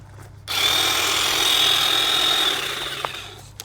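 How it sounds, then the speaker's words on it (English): An EnduTools 21V cordless dual-blade hedge trimmer, 20-inch, cuts through debris with a loud, steady buzzing whine that starts abruptly, holds for about two seconds, then fades as the blades slow, with a couple of sharp snaps near the end. "It's cutting really sharp, easily trimming all that debris off of there."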